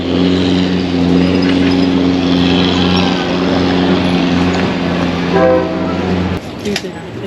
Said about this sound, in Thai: นี่ค่ะทุกคนรถไฟมาแล้ว